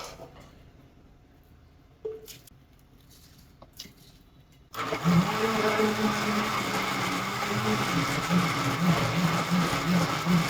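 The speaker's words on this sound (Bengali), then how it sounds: "এখন আমরা এটাকে ব্লেন্ড করব।" After a few quiet clinks and handling knocks, a kitchen blender starts abruptly and runs loud and steady, whirring through boiled tomatoes and beetroot for a homemade sauce.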